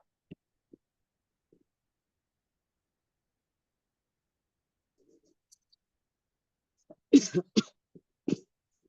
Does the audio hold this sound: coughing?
yes